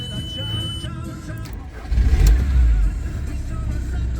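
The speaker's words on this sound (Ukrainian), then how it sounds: "І зараз ми цей автомобіль вам заведемо" A 2006 Volkswagen T5 van's 1.9-litre diesel engine cranks and catches, then settles into a low idle rumble, heard from nearby.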